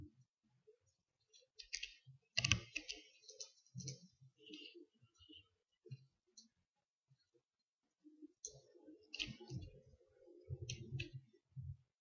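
Rapid spam clicking of a computer mouse during a game: quiet, close bursts of fast clicks come in irregular clusters with short pauses between them.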